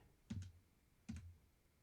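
Two separate clicks of the Q key on a computer keyboard, each a sharp tap with a short rattle, sounding close and clear in a quiet room with no talking.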